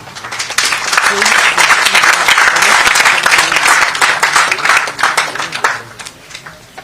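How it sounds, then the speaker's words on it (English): An audience applauds at a Goa State Higher Education Council MoU signing ceremony, a sustained round of dense clapping that swells, holds steady and thins out toward the end, with some voices mixed in. "Once again, let us welcome this moment with a round of applause."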